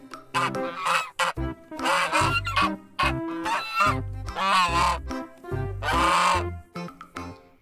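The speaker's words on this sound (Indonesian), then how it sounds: "ada angsa kembar, teman-teman" Geese honk loudly and repeatedly at close range, a series of harsh, nasal calls in uneven bursts with brief pauses between them.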